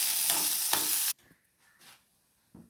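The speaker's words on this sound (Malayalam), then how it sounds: "അപ്പോൾ വെണ്ടയ്ക്ക നമ്മളിപ്പോൾ പതുക്കെ ഒന്ന് വാട്ടിയിരിക്കുക" Okra sautés in a pan for sambar with a loud, close sizzle and stirring for about a second, then the sound drops to faint, quiet scraping.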